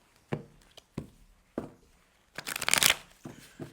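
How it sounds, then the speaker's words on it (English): Several soft taps of tarot cards being handled, then a burst of riffle shuffling lasting about half a second, close and fairly quiet. "I need to get this to shuffle."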